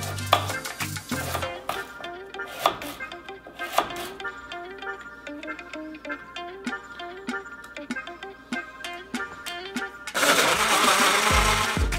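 A yellow BlendJet 2 portable blender whirs as it blends beet with water, its motor running steadily and close by, ending in a louder, dense surge of noise.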